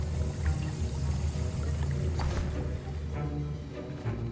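A potion is stirred in a cauldron in Hogwarts Legacy, giving a continuous liquid sloshing and bubbling that carries on steadily under low background music, with no talking.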